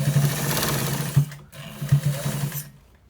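A sewing machine runs in bursts while stitching the top edge of a white trouser, its steady motor hum and needle chatter pausing briefly midway before starting again, close and fairly loud with no talk.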